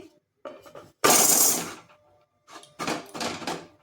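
While biscuits bake, a metal plate is set down on a pan with a loud clattering clang, followed by softer scraping knocks and rattles nearby, with no talking.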